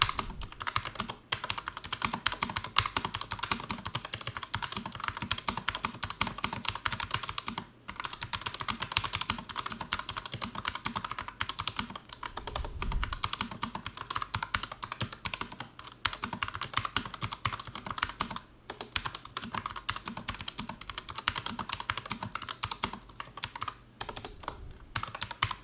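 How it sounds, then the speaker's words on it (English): Steady, uneven clacking of keys on a Redragon Horus K618 mechanical keyboard during a typing test, close and fairly quiet, with brief pauses between runs of keystrokes. "do a quick typing test so you can enjoy my wonderful chicken pecking here in this typing test"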